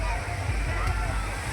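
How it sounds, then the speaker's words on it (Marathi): People enter the water at a resort pool with steady sloshing and splashing, loud and close throughout, while voices carry on underneath. "एंट्री होत आहे पाण्यात."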